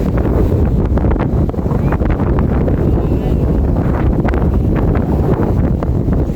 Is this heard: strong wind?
yes